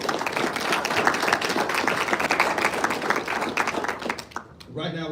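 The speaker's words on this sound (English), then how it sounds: "let's give one more round of applause for all the winners" Applause and clapping from an audience at a Mr. Football award ceremony honoring the winners, a dense steady roar of hands for about four seconds, then dropping off as a voice begins speaking.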